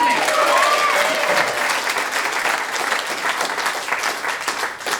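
A comedy show audience breaks into loud, full applause mixed with cheering and a whoop, sustained and close, easing slightly toward the end.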